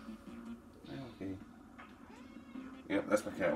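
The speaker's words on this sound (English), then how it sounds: "Yep, that's my cat, by the way." A pet cat meows several times close to the microphone, its cries overlapping a person talking and background video game sounds.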